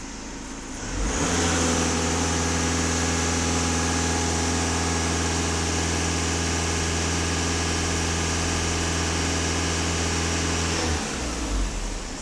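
VW Passat 2.0 TDI diesel engine held at full throttle, a loud steady high-rev drone with strong harmonic hum, rising at the start and dropping back to idle near the end.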